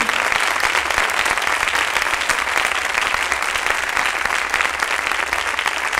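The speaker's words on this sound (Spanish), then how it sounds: "Ese aplauso es para el Señor. Dáselo con todo tu corazón." A church congregation applauds in a dense, continuous wash of clapping, loud and sustained throughout with no speech on top.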